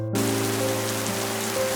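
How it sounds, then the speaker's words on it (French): A brief burst of falling rain, a dense steady hiss that starts abruptly and holds, with a low sustained hum beneath it and no speech. "il pleut toute l'année en France"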